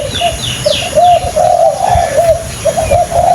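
Repeated cooing calls of a wild junglefowl in a steady series, loud and close, with faint higher chirps behind and a rustling outdoor background.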